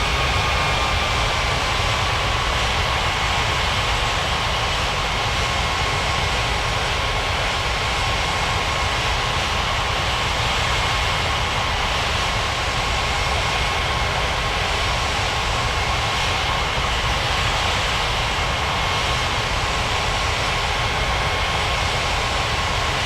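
Air India airliner taxiing toward runway 35 right in a flight simulation game, a steady loud engine drone with a thin high whine holding evenly throughout, no speech.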